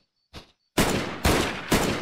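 Gunfire in the VR game PunjiVR: a short faint sound, then three loud, close gunshots in an even rhythm, each blast ringing out before the next.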